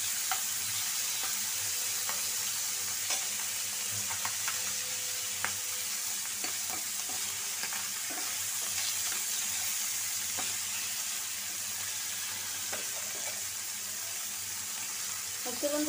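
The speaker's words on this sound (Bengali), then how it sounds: "ওকে বন্ধুরা, মাছটা ভাজা হোক।" Tengra fish fries in a pan of hot oil, giving a long, steady close-up sizzle with scattered spits and pops and occasional utensil clicks throughout, without anyone talking.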